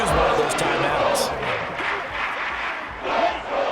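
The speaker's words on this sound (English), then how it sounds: "This crowd turning up the decibel level." Stadium crowd roar in the football game Madden NFL 24 during a Packers versus Eagles matchup, a loud sustained wash of cheering that swells and dips with commentary voices mixed in.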